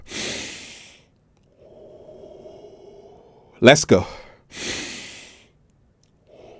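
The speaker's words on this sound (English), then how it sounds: "Alternate nostril breathing." Alternate nostril breathing exercise: a long, slow nasal inhale followed by a sharp double sniff and forceful exhales through the nose, close and intimate, with brief speech at the start.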